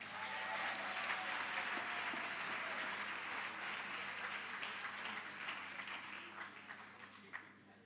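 Parliamentary audience applauding during a South African budget speech, a dense sustained roll of clapping at moderate distance that gradually thins toward the end.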